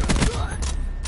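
Sniper rifle fire in a PS4 shooter game, a loud, dense burst of booming gunfire and thuds packed into about a second, with game noise and faint voices mixed in.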